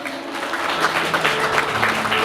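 Guests at a wedding ceremony applaud the bride and groom, a sustained, fairly loud round of clapping with faint low hum underneath and no speech.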